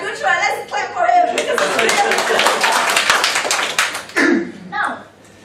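An audience claps at a knowledge-sharing talk, a burst of several seconds of scattered hand claps with some chatter and laughter mixed in, fading out toward the end as voices return.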